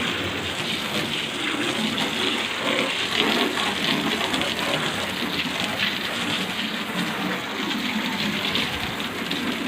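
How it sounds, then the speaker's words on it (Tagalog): Strong rushing water from a hose pours steadily while washing a car, a dense, loud hiss with no breaks throughout. "Ang lakas ng tubig."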